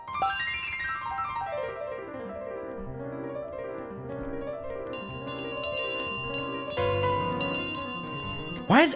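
A bell in Untitled Goose Game rings out repeatedly, bright metallic strikes with long shimmering decay that overlap into a continuous ringing, a fresh burst of rapid clangs joining partway through, loud and close with no talking.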